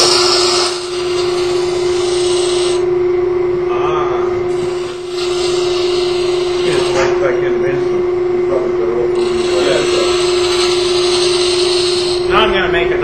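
A spindle gouge cuts wood on a lathe while turning a lamp, giving a steady tonal hum from the spinning stock with bursts of harsh hissing tool scrapes rising and falling, close by, as someone talks over it.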